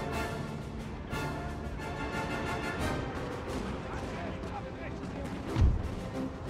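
Cannon artillery fire in the Napoleon: Total War video game: a dense, muffled rumble of booming shots blends into continuous battle noise, with one heavier low thump standing out near the end.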